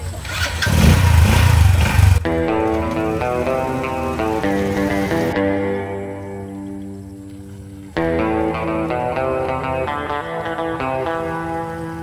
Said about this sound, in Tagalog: Hindi maganda ang motor ko.